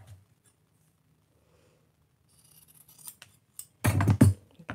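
Straight scissors cut through fabric at a crafting table, starting with faint scratchy snips after a near-silent pause and ending in a few louder, close crisp cuts.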